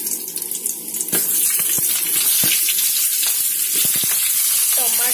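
Onions sizzle and crackle in hot oil with cumin seeds while cooking palak paneer, a loud, dense, continuous frying hiss close up, with scattered stirring clinks and pops.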